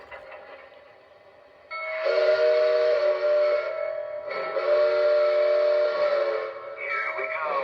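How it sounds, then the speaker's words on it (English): A Lionel Legacy model steam locomotive sounds two long, loud whistle blasts close by, over the steady low rumble of the running train. "we'll just run the locomotive around for a few laps"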